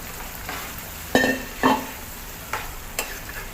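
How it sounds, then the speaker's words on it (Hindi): Cooked kidney beans tip into fried masala in a pan, giving two soft wet thuds, then a few light scrapes of stirring over a low, quiet sizzle. No one talks. "अब इसके अंदर हम जो राजमा रखे हैं वो डाल देंगे"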